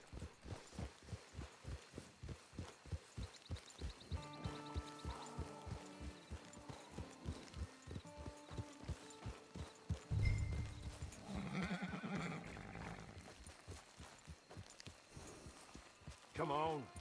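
Horse hooves clip-clop in a steady, even rhythm in the video game Red Dead Redemption 2, with a whinny partway through, while voices talk over the ride and game music plays.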